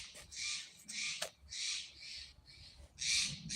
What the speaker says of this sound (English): The birds are heckling me.